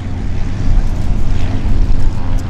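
Small plane taking off at EAA AirVenture Oshkosh, a steady low engine drone with propeller rumble held at a fairly even, moderately loud level throughout, no talk.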